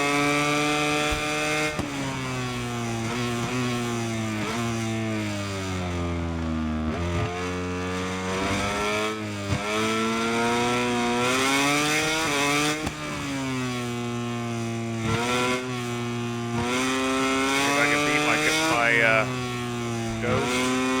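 A racing motorcycle engine in the video game MotoGP 22 screams through rising and falling revs as laps are ridden, loud and continuous with repeated upshifts and downshifts.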